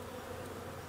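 A steady, close drone of honeybees buzzing, dense and continuous with no voices.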